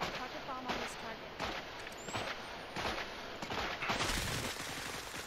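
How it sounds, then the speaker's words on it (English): Bursts of gunfire and explosions from carpet bombing in the video game Cepheus Protocol, rapid fusillades and booms layered at moderate distance, with someone talking over the combat. "please carpet bomb on this target"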